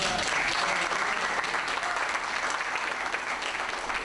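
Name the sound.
audience applauding with hand claps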